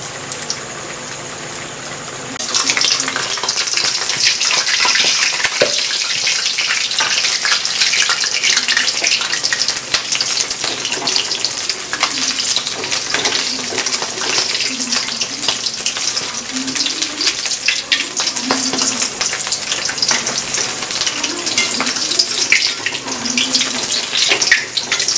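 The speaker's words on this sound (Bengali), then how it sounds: "দারুণ, এখানটা খুব সুন্দর ফ্রাই হচ্ছে।" Banana blossom chops made from kanthali banana flowers fry in oil with a steady, close sizzling hiss that begins suddenly and continues evenly throughout, with no talking.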